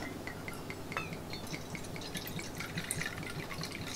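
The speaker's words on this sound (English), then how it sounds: "So now it's time to add the alcohol and the water." Water and alcohol are poured into a jar of peppermint leaves with light trickling, dripping and a few glassy clinks, close and fairly quiet.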